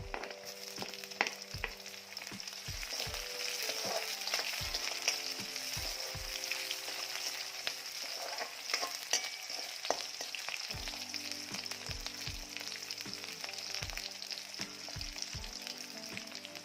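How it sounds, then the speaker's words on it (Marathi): Chillies sauté in hot oil with garlic for a tiffin vegetable dish: an even, continuous sizzle with scattered spatters and occasional soft clinks of a spoon, with no speech. "मिरची देखील छान परतली गेली आहे."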